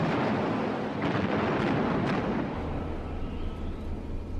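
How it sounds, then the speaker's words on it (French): Heavy-calibre battleship shells rain onto the deck of a German warship, a dense, continuous roar of explosions and rumbling blasts with a few sharper bursts standing out, loud and sustained throughout. "Les obus de gros calibre pleuvent sur le pont du navire allemand."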